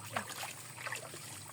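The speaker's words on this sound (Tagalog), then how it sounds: "Running water." Running water of the Pagsanjan river in Marinduque flows as a steady, soft broadband wash, close by and moderately quiet, with faint low hum beneath and no talk over it.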